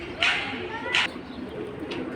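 Giribaz high-flying pigeons, a male among them, give two short coos close by with a fainter third call near the end, over quiet room ambience.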